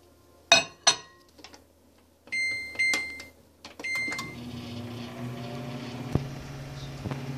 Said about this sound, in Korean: 이제 전자레인지로 진짜로 가도록 하겠습니다